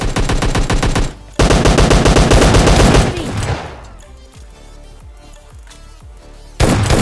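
Automatic gunfire in PUBG Mobile Lite comes as two loud, fast bursts of rapid shots, followed by quieter scattered single shots and clatter, then a final loud burst at the end, with no talking.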